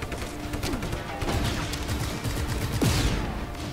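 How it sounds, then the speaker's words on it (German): A huge explosion set off by destroying a barrel in the open-world action game Just Cause 3, with crashing blasts and rattling debris over a continuous dense layer of game noise, loud and busy throughout. "Und dann gibt das hier eine riesen Explosion."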